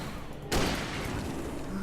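Hunting rifle gunfire in the video game Alan Wake: after a quiet moment a single sharp shot cracks out and rings into a lingering rumble that fades slowly.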